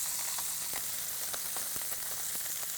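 Food pan-searing in hot oil gives a continuous, close sizzle and crackle with scattered sharp pops throughout, loud and steady with no voices.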